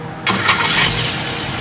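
A Jeep engine with a hand-ported cast Clifford intake manifold cranks and catches on a dyno, bursting into a loud start after a brief quiet moment, then settling to a steady idle.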